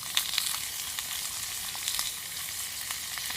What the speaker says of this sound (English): food cooking when it first goes into the oil.